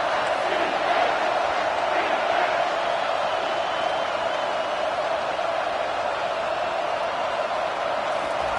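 A packed college football stadium crowd roars steadily on a third down, a dense, loud, continuous wall of noise with no break.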